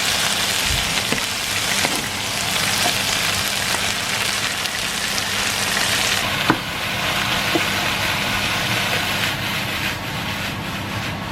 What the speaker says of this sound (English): put that in and let it sizzle